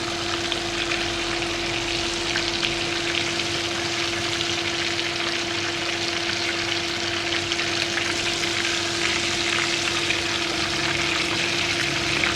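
Chicken pieces for a burger deep-frying in oil, a steady dense bubbling sizzle that holds at an even level throughout, close up and uninterrupted, with a faint steady hum beneath and no voices.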